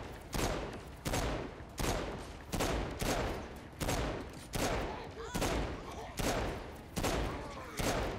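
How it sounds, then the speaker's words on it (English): Gunfire from a vehicle in the video game Saints Row IV: about ten evenly spaced loud bursts, each a sharp crack trailing off, repeating roughly every 0.8 seconds. "How do I shoot while in vehicle?"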